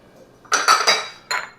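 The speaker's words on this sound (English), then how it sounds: "we put in 2 whole eggs and then 2 egg yolks" Eggs, two whole and two yolks, cracked against a bowl for meatball burger mix: a few sharp clinking taps in quick succession, then one more after a short pause, close and alone.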